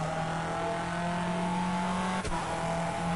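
Race car engine in TOCA Race Driver 3 holding a steady high drone with tonal harmonics for about three seconds, one brief dip near the end, no voices over it.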